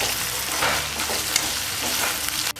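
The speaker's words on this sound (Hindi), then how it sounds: "तो यहाँ पे हमारे प्याज और लहसुन वगैरह भून गए हैं।" Chopped onions, garlic and grated ginger sizzle steadily in hot oil in a pan for baingan bharta, with a spoon stirring and scraping through continuous close frying noise.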